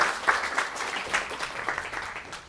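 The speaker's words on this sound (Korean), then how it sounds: "박수 한번 보내주세요" Brief round of audience applause at a Korean business lecture after a quiz answer, a lively cluster of hand claps from a modest indoor crowd that rises quickly and tapers off within a few seconds.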